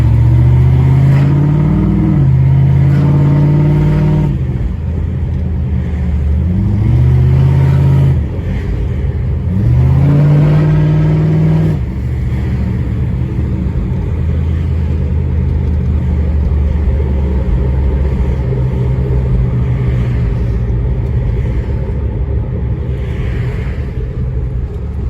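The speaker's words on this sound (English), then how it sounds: "There's a lot of traffic. It's rush hour in New York right now" A Jeep Grand Cherokee ZJ with a modified 5.2 V8 creeps through rush-hour traffic in New York, its engine rumbling close and loud with several short rev swells and gear changes, then settling into a steady drone.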